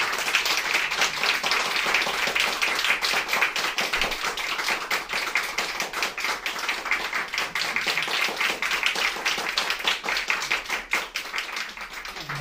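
A concert audience gives a pianist a warm welcome with sustained, dense applause. Many hands clap steadily for the whole stretch, filling the hall without any voices.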